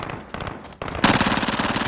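Machine gun fire in Call of Duty Warzone, sustained bursts that build in intensity, ending in a loud, dense stream of rapid shots.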